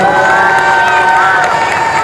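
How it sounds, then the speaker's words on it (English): A large stadium crowd, including an Indonesian contingent, cheers and chants during the men's 10,000 metres final at the SEA Games athletics, a loud continuous roar with shrill voices throughout. "The Indonesian contingent cheering and chanting for Agus Prayogo to run to his 5th gold medal of the SEA Games."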